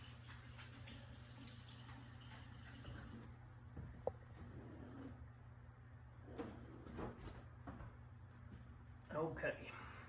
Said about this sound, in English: let me get my hands washed right quick